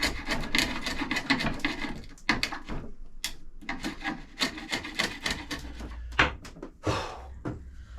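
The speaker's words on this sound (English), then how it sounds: "let's get these scraped" Pallet wood boards are scraped by hand in quick repeated strokes, a close, rough rasping rhythm broken by brief pauses and a few heavier scrapes, with no voices.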